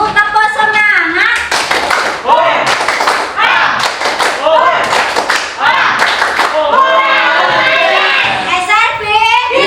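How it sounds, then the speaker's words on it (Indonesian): A classroom of children does a rhythmic spirit clap, with bursts of hand claps in short patterned groups, mixed with a teacher's voice and children's talk throughout. "tepuk semangat dulu, tepuk semangat"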